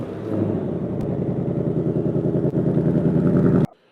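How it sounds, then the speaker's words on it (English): Ford Mustang engine running after start-up, a loud, steady, throbbing rumble that fills the clip, then cuts off abruptly just before the end. "Right, I'm gonna start up. It's gonna shake the house."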